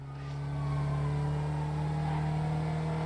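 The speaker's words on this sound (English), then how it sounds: "once you get over a certain speed, it actually switches over to the gas engine." A hybrid road vehicle in the Transport Tycoon video game accelerates and its gas engine takes over, a steady rising engine hum with a strong low drone that swells in the first half second, then holds evenly.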